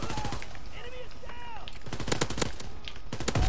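Shotgun and other gunfire in a WWII Call of Duty online match, loud repeated blasts crowding the second half over game sound effects, with a voice briefly audible.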